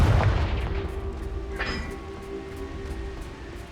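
A Confringo fire spell explodes in Hogwarts Legacy, a heavy booming blast at the start that decays into a rumbling tail, with a short crackle in the middle over steady game ambience.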